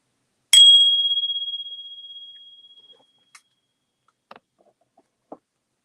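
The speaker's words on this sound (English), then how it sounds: "Let me ring the bell" A single bright bell is struck once, close and clear, and its pure tone rings out and decays slowly over about two seconds, followed by a few faint small clicks in an otherwise quiet room.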